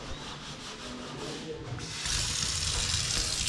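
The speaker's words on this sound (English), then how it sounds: "at least we have running water in the sink now" A tap runs into a newly plumbed sink in a house under renovation, a steady close hiss that grows louder and brighter halfway through, with a voice faintly underneath.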